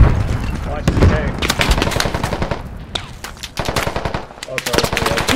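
Rapid machine gun bursts crackle through a Squad firefight with tanks on the Tallil Outskirts map, dense and loud, overlapping other shots, with players talking over the gunfire throughout.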